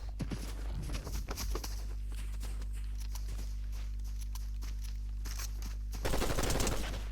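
Rapid bursts of gunfire from the Fortnite video game crackle in dense volleys at the start, thin out to scattered shots under a steady low hum, then return as a loud flurry near the end.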